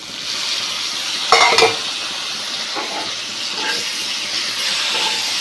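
Chopped tomatoes drop into okra frying in a pan, a brief loud burst of sizzle and steam around the addition, then a steady hiss of frying with small stirring sounds.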